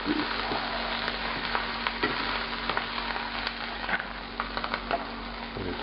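Shrimp standing on their ends, frying in a little oil in a restaurant-style pan: a continuous close sizzle with scattered light pops and crackles, no voices.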